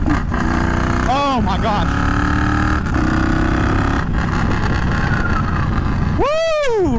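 A Triumph Bonneville Bobber motorcycle engine drones loud and steady throughout while riding, with rising revving sweeps near the start and end; wind noise and a short spoken exclamation come over it.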